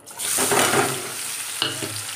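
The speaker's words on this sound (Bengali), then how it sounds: "দিয়ে পেঁয়াজটা দিয়ে দেবো।" Onion hits a hot pan and sizzles loudly up close, with stirring scrapes through the frying and a sharp clatter near the end.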